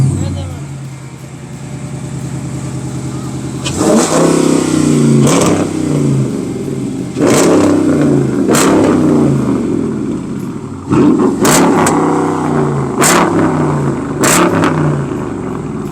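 Toyota GR Supra at a car show, an idling engine punctuated by five or six sharp revs that rise and fall, loud and close, with people talking around it.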